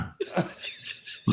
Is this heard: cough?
yes